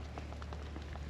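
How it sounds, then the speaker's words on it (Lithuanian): Rain falls outdoors on the green, jungle-like island of Corfu, heard as a faint, steady patter of drops on a surface in a brief stretch with no talk. "Nu, lyja lietus."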